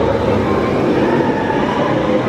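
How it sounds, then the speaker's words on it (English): A train rumbles past close to the TRON ride at Magic Kingdom, a steady broad roar held for the whole short stretch with no one talking. "we can hear the train going by, which is cool too"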